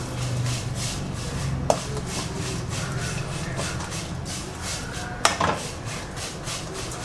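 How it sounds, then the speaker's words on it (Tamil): Dry ingredients for idli podi rustle in a pan as they roast, a steady rhythmic scraping and stirring shuffle with two sharper knocks of a utensil against the pan, close and fairly quiet. "ஒரு சலசலன்னு சவுண்டு கேட்குது பாருங்கள் இந்த சலசலன்னு சவுண்டு கேட்டாலே நல்லா வறு வறுத்தாச்சுன்னு அர்த்தம்தான்"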